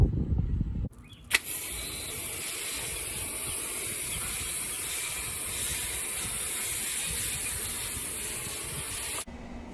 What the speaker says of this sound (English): You just pop a hose to the back side of this, pull this lever down